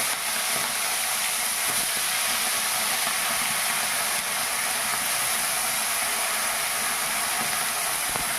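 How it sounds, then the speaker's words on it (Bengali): Prawns frying in hot oil, giving a loud, dense, unbroken hiss of sizzling that holds steady from start to finish, with no voices. "যেহেতু তেল গরম হয়ে গেছে এবারে চিংড়ি মাছগুলো আমি ভেজে নেব"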